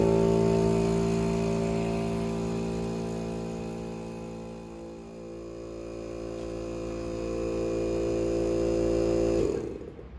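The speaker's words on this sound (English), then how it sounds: "I'm going to start to run the vacuum pump out." A vacuum pump on a shock wave chamber drones steadily with a low mechanical hum and buzzing harmonics, running alone for several seconds before cutting off abruptly near the end.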